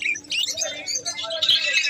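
A caged parrot at a large bird fair where foreign birds such as African grey parrots are sold, giving a string of close, bright chirps and squawks, with crowd murmur in the background.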